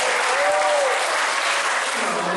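Dense, loud applause from an audience at a volunteer stage show, steady clapping filling the whole moment without pause.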